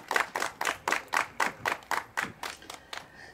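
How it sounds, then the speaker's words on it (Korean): At an outdoor touring performance of the 2020 Gyeongnam Arts Festival in Changnyeong, an audience claps in unison. About a dozen crisp claps land in a steady, quick rhythm, loud and close, with no voices. "박수입니다."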